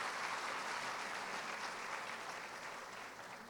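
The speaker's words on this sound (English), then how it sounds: "Let's have another round of applause for them" A room full of people gives a round of applause for a trio of singers after an inspirational song, a dense, steady clapping wash that gradually fades toward the end and sits faint in level.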